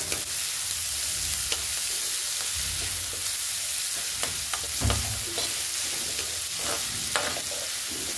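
Curry leaves fry in hot oil in a pan, giving a continuous sizzle broken by occasional stirring scrapes and knocks, close and moderately loud with no voices.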